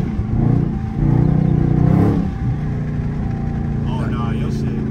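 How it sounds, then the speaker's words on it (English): Dodge Charger 392 Scat Pack revs its engine with a rising, throaty roar that peaks and falls away, then settles into a lower steady rumble, under loud talk throughout; no distinct backfire pops stand out. "Can you hear that shit backfire?"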